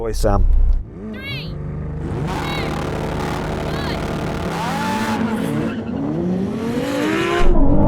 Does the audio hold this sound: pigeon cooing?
no